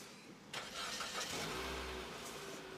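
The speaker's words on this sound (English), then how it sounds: "When you start the engine," A Mitsubishi car engine with MIVEC valve timing starting up, a brief starter crank followed by the motor catching and settling into a smooth low idle, quiet and close.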